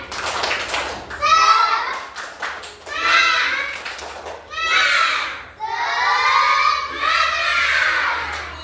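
A group of children claps in rhythmic bursts while chanting and shouting together in a spirited clap-chant, several loud repeated phrases separated by short pauses, close and lively.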